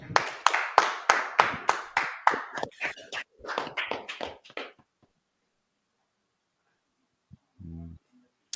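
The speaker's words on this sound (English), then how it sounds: "All right, clap it up." A group of people claps in unison in a regular, rhythmic beat, about a dozen sharp strokes that loosen into scattered claps and stop, followed by silence and a brief faint sound.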